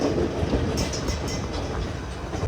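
White Pass railway train rolling along near Skagway, Alaska, heard from inside a passenger car as a steady, loud rumble with faint rail clatter throughout, no talking.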